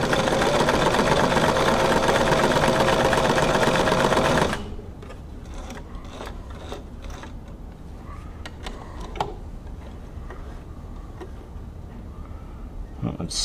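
A Brother VX757 sewing machine stitches rapidly and loudly for about four seconds after reassembly, then stops, leaving quieter mechanical clicks and handling noises.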